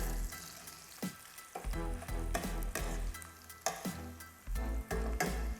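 Shallots fry in hot oil with a steady, crackling sizzle, broken by the repeated scrape and clatter of stirring against the pan.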